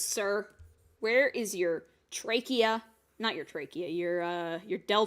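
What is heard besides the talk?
No distinct noise like a dog, phone or traffic.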